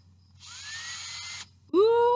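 A small electric drill with a fresh bit fitted whirs briefly at a high pitch, stops, and then a louder rising whine starts up near the end.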